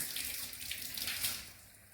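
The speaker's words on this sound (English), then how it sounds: "Turn on hot water." Hot water runs steadily from a sink faucet while hands are wetted under the stream, a soft continuous splashing hiss with no talk.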